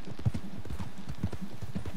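Soft, steady clip-clop of horse hooves at a walking pace in the video game Red Dead Redemption 2, fairly quiet and even, with no talking over it.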